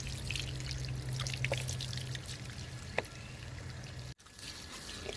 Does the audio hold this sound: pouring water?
yes